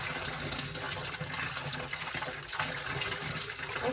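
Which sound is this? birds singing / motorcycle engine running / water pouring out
water pouring out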